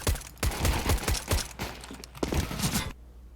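Rapid bursts of gunfire from CS:GO, a dense volley of close, sharp shots over about three seconds before stopping abruptly into quiet.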